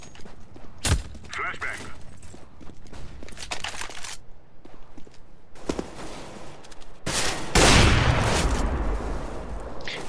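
Gunfire from a shooter video game, with sharp separate shots and short bursts that mix with loud player chatter and a dense rush of noise near the end.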